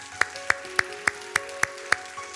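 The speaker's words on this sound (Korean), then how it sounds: "다시 한번 하나님 앞에 영광과 감사의 박수 올려드리도록 하겠습니다" A church congregation claps in a slow, even rhythm, about seven sharp claps roughly every third of a second, moderately loud and fairly close, with no talking over them.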